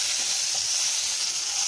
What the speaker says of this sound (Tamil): கடுகு பொரிஞ்சதும் வெங்காயம், ஒரு வெங்காயம் இது மாதிரி நறுக்கி வச்சு போட்டுக்கோங்க.